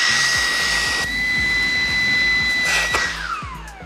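A Xiaomi Mi Vacuum Cleaner G10 cordless handheld vacuum runs with a steady high-pitched whine and airy rush. Its pitch shifts partway through, then the motor winds down near the end.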